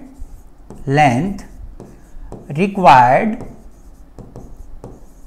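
Writing on a classroom board during a math lesson: soft scratchy strokes beneath a teacher's voice.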